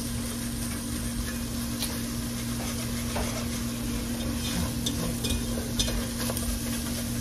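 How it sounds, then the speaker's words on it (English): Onions and garlic being stirred in a soup pot, a steady soft sizzle with faint scraping clicks, close and alone. "Stir your pot."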